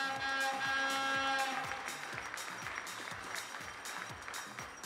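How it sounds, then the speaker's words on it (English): Audience applause at a women's junior 10m air rifle European Championship final in Győr, Hungary: steady scattered clapping throughout, with a voice speaking over the start. "please give a round of applause for Russia's Daria Boldinova"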